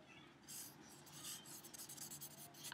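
A small piece of charcoal stick scratches across paper in short, dry strokes, faint and close, ending with a brief louder knock.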